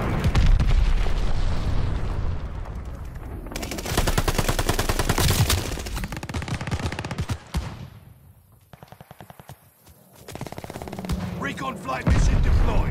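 Glide bomb explosions and rapid gunfire in a World War II shooter game with an MP-40, loud booming blasts and rattling bursts dominating, a quieter lull in the middle before firing resumes.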